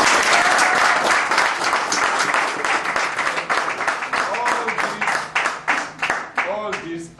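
A crowd applauds loudly and steadily, the clapping thinning out toward the end as voices begin to cut through.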